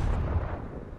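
Gunfire in an online shooter video game firefight: a dense, close burst of low, rumbling shots packed into about a second, with no talking.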